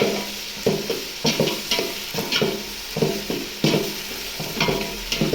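Ginger garlic paste sizzling in a pan for mushroom biryani, with a spatula scraping and stirring in a regular rhythm of roughly two strokes a second over a continuous fry hiss, close and fairly loud.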